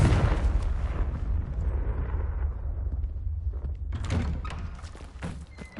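A Confringo blasting spell in Hogwarts Legacy: a heavy, booming explosion with a deep low rumble that decays over a few seconds, followed by a scattering of smaller crackles and debris-like hits.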